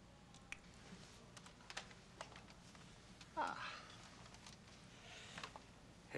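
Typing on a computer keyboard, soft scattered key clicks at low level running beneath speech.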